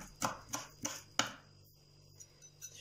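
A knife chops parsley and other greens finely on a board for gözleme filling, four sharp evenly spaced strikes close by, then a few softer taps.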